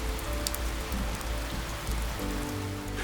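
Steady rain falls across an African savanna of elephant grass and acacia trees, a dense continuous patter on the ground and vegetation with no voices.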